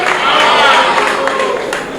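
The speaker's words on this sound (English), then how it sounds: "Please a round of applause for him." An audience breaks into dense, loud applause honouring the newly sworn-in PDP chairman of Bayelsa State, the clapping sustained and then easing slightly toward the end.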